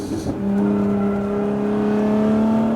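A Lotus Emira sports car revs and accelerates on a track, its engine note rising and holding as a strong steady drone close by, with no talk over it.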